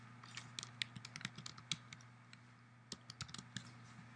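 A computer keyboard is typed on in quick, uneven bursts of light clicks with a short pause in the middle. The clicks are close but quiet, over a steady low hum, with no talking.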